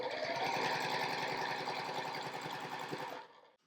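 A sewing machine stitches a quarter-inch quilt seam through layered fabric, its fast rapid needle chatter running steadily for about three seconds before stopping, close and alone without talking.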